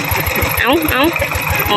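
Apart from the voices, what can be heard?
Thai-made farm tractor engine running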